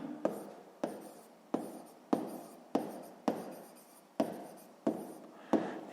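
A pen scratches across notebook paper while working a sixth-grade maths exercise, making about nine short, evenly spaced strokes close up and fairly quiet, with no talking over it.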